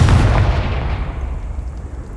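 A Confringo blasting spell explodes in the Hogwarts Legacy video game, a loud, deep burst at the start that rumbles and slowly fades over about two seconds.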